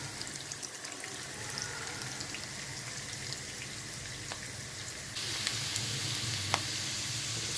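Onions frying in a pot for a ghiya tori dish give a steady, close crackling sizzle throughout, briefly growing louder and brighter toward the end, with no voices.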